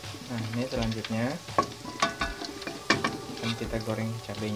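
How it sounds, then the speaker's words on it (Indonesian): Chilies fry in a pan with a steady crackling sizzle while being stirred, scraping and clinking of the utensil mixed in, under a voice talking throughout. "akan kita goreng cabenya lagi"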